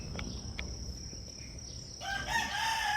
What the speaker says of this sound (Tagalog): Tumitilaok siya